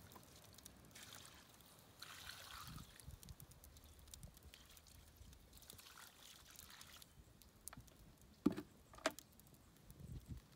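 Water poured onto the remains of a campfire trickles and patters faintly, with soft broadband rushes coming and going and a few sharper splashes near the end, heard alone without talk.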